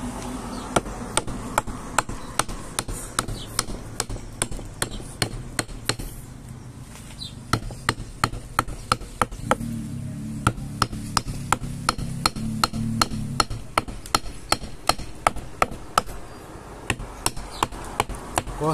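A wooden sign is cut along a drawn line with firm, steady strikes. Sharp, close knocks repeat in a regular rhythm throughout over a low background rumble.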